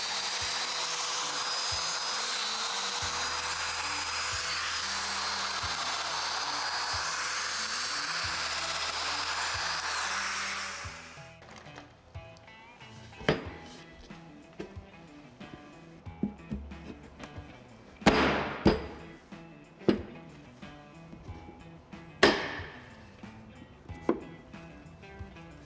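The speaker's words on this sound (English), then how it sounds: "I'm going to use the fence of the domino to position the mortises." A Festool Domino joiner cuts mortises into a wood panel with a loud, steady cutting whir plus dust-extractor hiss for about ten seconds, followed by scattered clicks, clunks and handling knocks as the tool is repositioned.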